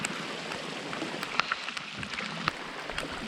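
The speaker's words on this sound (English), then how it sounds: "It is absolutely pissing rain. Oh, yeah. Wow, this is heavy rain too." Heavy rain hisses steadily on a rainstorm canoe trip, with scattered sharper drops tapping close by throughout.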